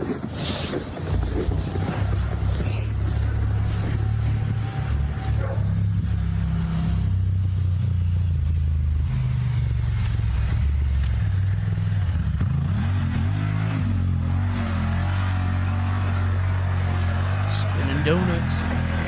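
A side-by-side off-road vehicle spins donuts on an ice-covered ground after an ice storm, its engine droning and surging continuously under wind noise, with people talking over it.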